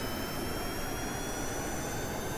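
Loud, steady jet engine roar of an SR-71 Blackbird at launch in Kerbal Space Program, with a broad rushing hiss and low rumble, continuous throughout with no voices.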